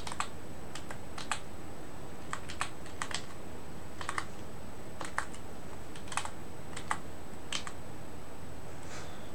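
Computer keyboard being typed on during game coding work, with scattered clusters of quick clicking keystrokes separated by pauses, close and fairly light over a steady background hiss.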